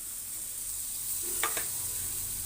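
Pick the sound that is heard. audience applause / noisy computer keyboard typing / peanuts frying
peanuts frying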